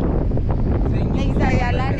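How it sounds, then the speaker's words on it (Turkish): Strong wind buffets the microphone outdoors, a steady low roar and rumble that stays loud throughout. "Oo, ne güzel rüzgar."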